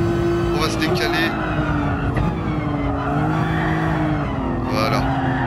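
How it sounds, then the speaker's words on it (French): Car tires squealing in the GT Sport racing video game, wavering screeches over a constant engine drone, with someone talking over the racing sounds. "On entend les pneus qui crissent un petit peu."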